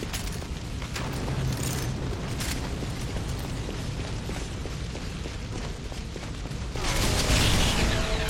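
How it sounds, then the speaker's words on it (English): Airstrike explosions in a video game land as a sustained, heavy rumbling barrage of booms, swelling louder near the end. "of course I need to do an airstrike again"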